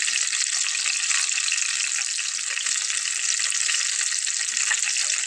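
Chopped green chillies fry in a pan, giving a bright, even hiss that holds steady for several seconds, close and unbroken, with no voices over it.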